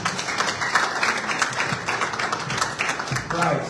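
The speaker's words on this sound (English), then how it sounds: "Another round of applause." An audience at an embassy event claps in a steady patter of many hands, moderately loud, with a voice speaking over part of the applause.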